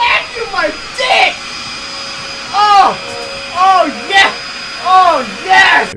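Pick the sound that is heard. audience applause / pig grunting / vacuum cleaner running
vacuum cleaner running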